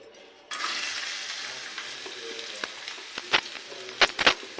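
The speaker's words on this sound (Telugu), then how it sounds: "సో ఇప్పుడు ఉల్లిపాయలు వేసుకుందాము." Chopped onions dropped into hot oil in a pan, frying for a Telangana-style fish fry, with a steady broadband sizzle rising after a quiet start and a few sharp clinks of stirring near the end.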